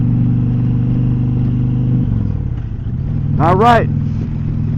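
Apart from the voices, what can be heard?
Indian Pursuit motorcycle riding on the road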